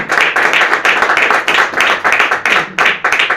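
A worshipping congregation claps for Jesus at a Spanish sermon, a brief burst of loud, evenly pulsing group clapping in a quick regular beat.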